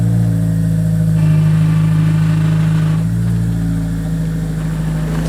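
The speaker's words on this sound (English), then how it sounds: "So we just backed the car up." An eighth-generation Honda Civic Si turbo engine, being checked for a coolant leak, runs steadily nearby with a low, continuous hum and slight shifts in pitch as the car backs up slowly, no voices.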